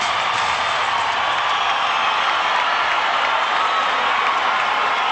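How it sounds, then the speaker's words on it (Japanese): A boxing arena crowd roars as Oscar De La Hoya enters the ring before a 1997 WBC welterweight title fight, a loud, continuous wash of cheering and clapping that stays even from start to finish. "ものすごい、ものすごい歓声です。"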